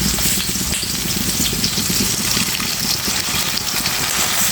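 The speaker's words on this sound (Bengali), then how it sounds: "সামান্য পরিমাণে জল দিয়েছি, এখন গুঁড়ো মশলা দিয়ে দেবো" Hot water poured into a pan of frying onions, with the spices yet to be added, while cooking a Bengali chital fish curry: a loud, dense, continuous sizzle and hiss that rolls on without pause.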